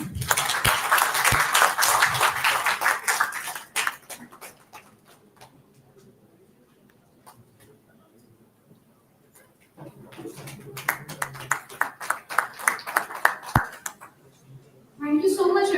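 Audience applause at a summit rises as a full burst of clapping, fades to near quiet with scattered claps, then swells again, with a voice speaking in the room.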